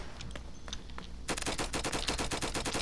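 Rapid automatic gunfire from a gun in the video game Flag Wars, a fast, loud, evenly spaced burst of shots after a few scattered quieter sounds.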